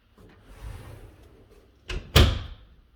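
A small storage door in a tiny house is handled twice in quick succession, a soft thud followed by a louder, sharper knock as it shuts, close to the microphone over a quiet room.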